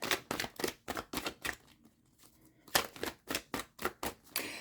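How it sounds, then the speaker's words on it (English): Tarot cards being shuffled by hand, a run of sharp riffling bursts in steady rhythm, then a short quiet pause before another rapid series of close, crisp shuffles. "So we're going to go ahead and put these cards here. Shuffle these cards."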